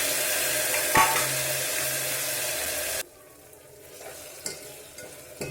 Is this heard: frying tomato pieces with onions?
yes